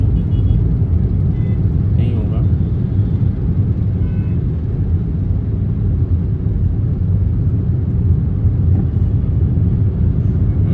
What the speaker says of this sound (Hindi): बट 7:34 पे ऐसा ट्रैफिक एक्सपेक्ट करना थोड़ा सा सरप्राइजिंग है।